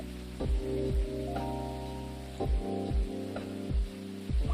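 Steady rain patters outside in the video game Coffee Talk, a soft hiss running beneath mellow music with gentle piano-like notes, with no voices.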